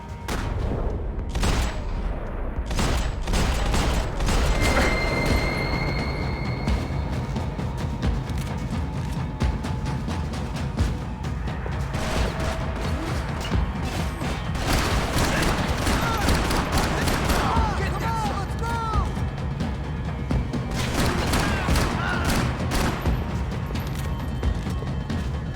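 Continuous gunfire from a Max Payne 3 firefight, dense rapid bursts and crashing impacts layered over each other for the whole stretch, loud and close with brief pauses, voices occasionally breaking through.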